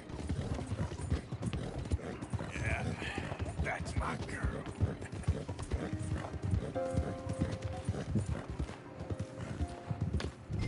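Horse hooves clip-clop in a steady, fast galloping rhythm throughout in Red Dead Redemption 2, with someone briefly talking over it and faint tonal music near the end.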